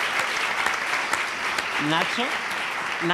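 Applause for producer Nacho during a stage interview, dense clapping and cheering filling the short stretch, with a few voices calling out over it.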